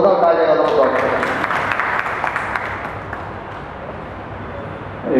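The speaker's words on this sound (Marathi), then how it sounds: "जोरदार टाळ्या वाजवा." An audience at a Marathi poetry event applauds, a dense burst of clapping that starts strong, then thins and fades over several seconds, with a voice breaking in at the very end.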